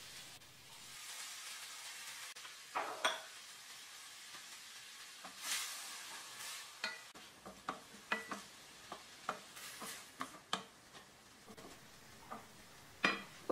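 Onion and falafel frying in hot oil in a pan give a quiet, steady sizzle, broken by intermittent scraping and clinking taps of a utensil stirring against the pan.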